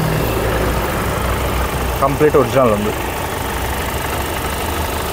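A 2019/20 Kia Seltos STX Plus diesel automatic idles with a steady, even low hum, while someone speaks briefly over it.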